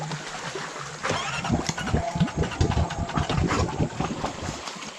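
Small 420 engine, probably on an ATV ridden in the rain, catching and running with an uneven, sputtering idle, a rough chugging rhythm that fluctuates in loudness nearby.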